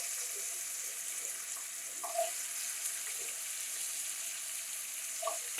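Potatoes go into hot tempering oil for vegetable batata poha, producing a soft, even frying hiss throughout, marked by a couple of small metallic clinks near the pan.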